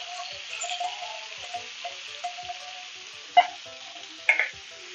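Squid cooks in a pan with green masala, giving a soft, steady sizzle with a few brief, sharper clinks and spatters from stirring.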